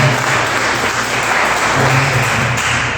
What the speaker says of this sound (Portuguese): Você pode aplaudir o nome de Deus?